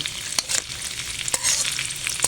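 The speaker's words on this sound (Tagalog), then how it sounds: "So, prito muna natin yung ating tokwa. Ayan guys, paghaluin lang natin hanggang maging brown." Tofu fries in a pan and is stirred, a close, crackling sizzle with brief scraping bursts at irregular intervals and no speech over it.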